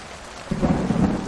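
Heavy rain and a deep, rolling thunderclap in the video game Portrait Of A Torn: quiet rainfall at first, then a loud, close rumble breaks in halfway through and keeps churning to the end.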